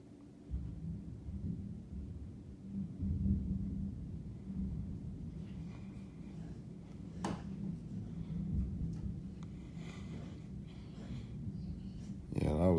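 Thunder during a severe thunderstorm, a low rolling rumble lasting most of the time with a sharp crack partway through and a fresh burst at the end, moderately loud, while people talk nearby.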